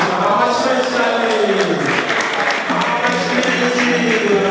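Guests at an umuganura reception applaud, a steady crowd clapping sustained throughout while a voice carries over it.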